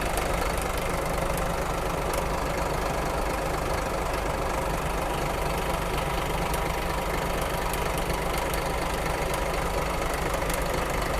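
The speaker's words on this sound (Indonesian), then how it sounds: "Halus sekali suara mesinnya." A Hino RM 280 bus engine idles smoothly close by, giving an even, continuous mechanical hum and rumble with faint ticking and no voices.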